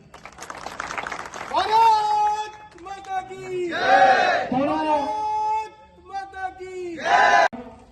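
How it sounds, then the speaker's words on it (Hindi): A crowd at a Hindu Morcha birthday event gathering in India breaks into loud cheering and shouting in repeated bursts, with voices yelling together over a steady roar of the audience. "एक बार उनके ऊपर तालियां बजाएं"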